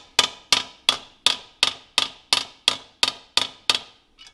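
Eleven sharp metallic taps from a hammer tapping out a dent from the inside on a 1933 Cotton motorcycle, evenly spaced about a third of a second apart, close and ringing briefly, with no talking.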